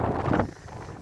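Strong wind gusts buffet the microphone on the 449 m summit of Hownam Law, a loud broadband roar that peaks in the first half second and then eases to a steadier rushing.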